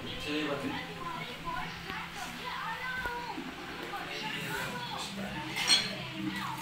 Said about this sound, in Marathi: मम्मी सगळ्यांसाठी ताटं वाढती बघा